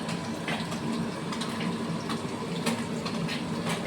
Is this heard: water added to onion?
yes